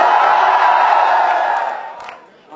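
A live stage comedy audience shouts and cheers in a loud, dense roar that holds steady, then tapers off toward the end.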